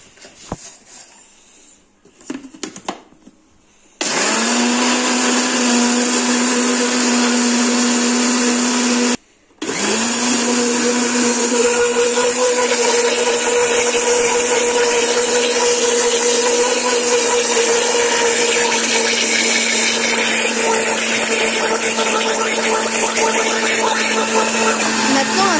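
An electric mixer whirs loudly at a steady high pitch, blending eggs, salt and sugar for a lemon cake; it starts after a few seconds of handling noise, cuts out briefly, then restarts and runs continuously.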